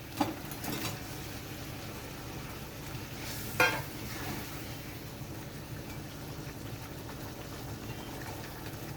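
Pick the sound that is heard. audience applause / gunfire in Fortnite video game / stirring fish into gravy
stirring fish into gravy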